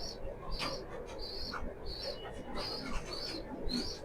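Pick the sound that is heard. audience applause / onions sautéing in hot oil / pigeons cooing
pigeons cooing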